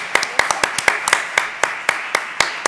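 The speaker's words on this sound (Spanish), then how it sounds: "Un nuevo aplauso para la autora." A small audience at a poetry event claps for the author, a sparse, uneven patter of a few close hands with distinct individual claps rather than a full roar.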